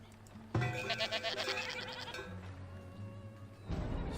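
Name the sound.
goats bleating at a goat farm in Farthest Frontier video game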